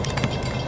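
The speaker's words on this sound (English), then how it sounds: "here comes another train." A train approaches with a steady, broadband rumble and faint clatter, moderately loud and continuous through the short stretch, with no talking.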